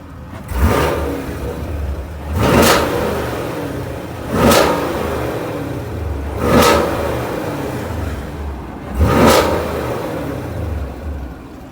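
A 2019 Chevrolet Camaro SS V8 revs hard five times at steady intervals, each loud roar of exhaust dropping back to a rumbling idle between bursts.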